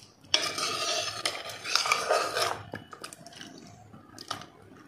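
A pressure cooker of mutton curry is opened and stirred: a loud metallic scrape and clatter of a spoon against the pot, with bursts of clinking and bubbling, close up and without talk.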